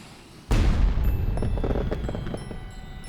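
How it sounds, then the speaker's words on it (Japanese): A loud firework burst for the annual Lake Suwa fireworks festival in an anime scene: a sudden boom that fills the sound, then a long rumbling roll with crackles fading slowly, and no voices. "諏訪湖毎年恒例の花火大会ね。"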